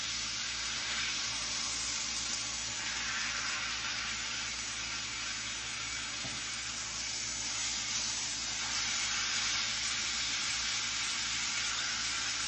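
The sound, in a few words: beef pot roast searing in a pan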